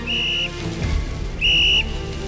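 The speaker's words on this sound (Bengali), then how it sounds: "লাইনের ওপারের ঝোপ জঙ্গলে শোনা গেল পুলিশের হুইসেল" Two shrill, steady police-whistle blasts sound loud and close as an effect in a thriller audio story, separated by a short gap.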